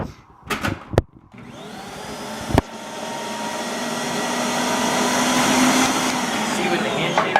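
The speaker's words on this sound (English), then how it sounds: "I got my food processor." A food processor shreds potatoes for latkes, starting after a few knocks and clicks and then whirring loudly and steadily, its pitch settling as it runs.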